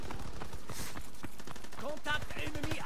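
Rapid bursts of submachine gun fire in the World War II shooter Call of Duty: WWII, a dense run of sharp, evenly spaced cracks with game sounds and a brief voice mixed in toward the end.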